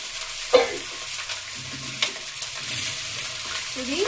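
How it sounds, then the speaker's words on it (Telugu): Spinach frying with green chillies in a pan, a soft steady sizzle broken by a few scraping stirs of the spatula, close by and with no voices. "దీనిలో పాలకూర వేసి బాగా ఫ్రై చేయాలి."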